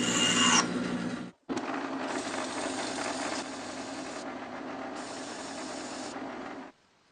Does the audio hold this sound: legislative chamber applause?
no